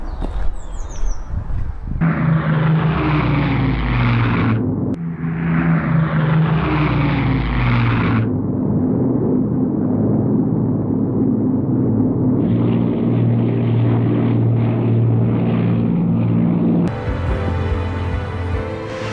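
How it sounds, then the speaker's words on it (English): Spitfire propeller aircraft pass overhead with a loud, continuous droning engine roar whose pitch shifts as the planes come and go; no voices are heard. "we're now being accompanied by the Spitfires"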